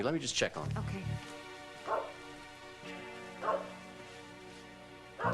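A dog in a house barks close by, with a few sharp yips at the start and then sparse barks, under people talking.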